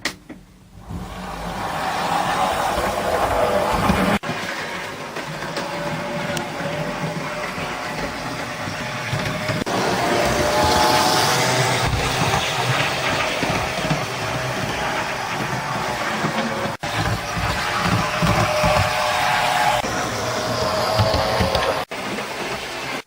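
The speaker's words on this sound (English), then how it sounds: "let's have a look at this locomotive running in" Weathered Bachmann Class 37 model diesel locomotive in BR large logo blue running in on a layout, a steady close mechanical whir and hum from the motor with a few faint clicks of track joints, no talk.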